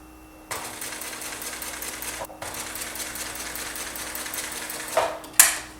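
A sewing machine stitches fabric for a quilted mug rug in a steady, fast continuous whir that pauses briefly, then resumes before a louder clunk near the end.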